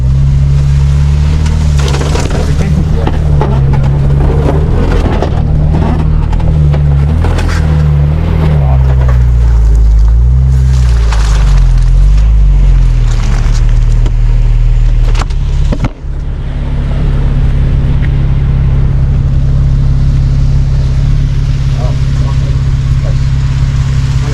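Vehicle grinding along a Botswana cutline road and pushing through a water crossing, a loud low engine drone with rattles and splashy bursts, a brief dropout partway, and voices talking over it.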